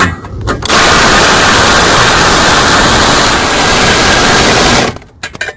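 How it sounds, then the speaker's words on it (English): A power ratchet drives bolts on a Chrysler 200 during a radiator replacement. It lets out one loud, continuous buzzing whir that runs for about four seconds close by, then cuts off sharply. "I'm going to hit these with a ratchet."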